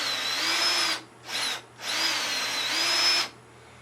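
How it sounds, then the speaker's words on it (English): A half-inch electric drill motor bores a hole in a sawmill edger shaft hub, with a high whine in three bursts of different lengths separated by brief quiet gaps, close and clear. "1/2-inch drill motor hooked up to it, and then I adjust a cross slide in until I got the hole lined up in the bushing with the drill"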